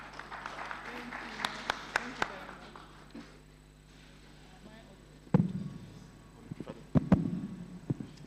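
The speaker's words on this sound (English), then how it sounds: "A round of applause for her, please." Scattered audience clapping marks a speaker's finish at a NUPRC World Environment Day webinar. A few seconds of light, uneven claps fade, and talking voices follow.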